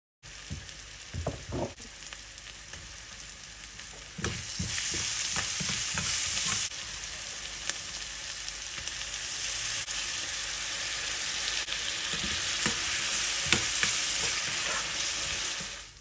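Chopped onion, salt, ground pepper, minced garlic and onion paste fry in hot oil for a chicken shahi korma, giving a steady, close sizzle with a few spatula stirs and scrapes near the start.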